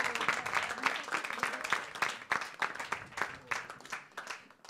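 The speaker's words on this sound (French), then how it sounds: "On l'applaudit" Audience applause at the closing of the Agri Startup Summit 2018 contest, a steady round of clapping from a moderate crowd lasting several seconds with some individual claps standing out.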